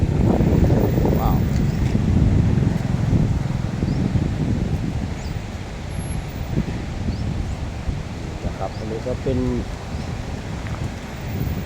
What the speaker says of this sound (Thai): ลมนะครับลมมาก่อน